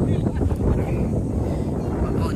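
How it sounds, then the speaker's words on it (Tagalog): Wind buffets a high hilltop at Lake View campsite in View Park, Aguipo, Mabini, with a steady, fairly loud low rumble across the microphone that continues without a break. "Mahangin dito dahil mataas."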